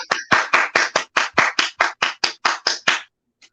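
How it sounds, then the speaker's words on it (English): One person claps slowly and evenly, about thirteen sharp, close hand claps in a steady rhythm, with no other sound around them. "Round of applause."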